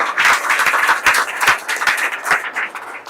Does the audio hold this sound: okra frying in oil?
no